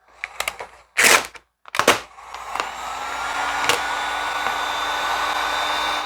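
After several sharp clicks and knocks, a heat gun switches on and blows with a steady, close, continuous whoosh while heating vinyl wrap over a Corvette Z06 headlight.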